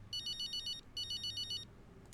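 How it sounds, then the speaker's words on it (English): A phone ringtone inside the racing game F1 23 trills in two short bursts of rapid electronic pulses separated by a brief gap, clear and alone over a faint low hum. "I'm expecting a phone call here from Casper."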